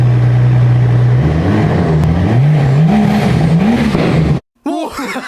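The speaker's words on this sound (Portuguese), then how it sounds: "Vamos ver como soa um Rolls-Royce com escape direto" Rolls-Royce Wraith fitted with a straight-pipe exhaust, the engine loud and close, idling steadily before revving up and down in several rising and falling swells, then cutting off abruptly before a final short blip.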